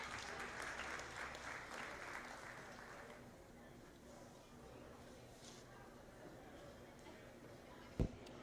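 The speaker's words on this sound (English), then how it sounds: "Let's give them a big round of applause as they exit." An audience claps at a county fair swine show, a faint, distant patter of applause that is strongest at first and then thins to a low murmur, with one sharp knock near the end.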